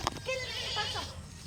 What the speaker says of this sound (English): This is the goat over there.